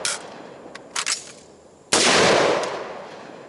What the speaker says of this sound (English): fire one shot, emergency reload, fire one shot